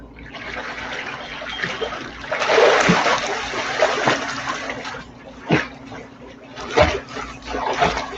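Water splashes from a swimmer pulling through breaststroke arm strokes in a pool, a steady wash of churning water broken by several sharper splashes spaced a second or so apart.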